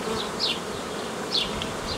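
Honeybees buzzing steadily at an open hive, a dense close drone with a few brighter passes of individual bees flying near, no voices.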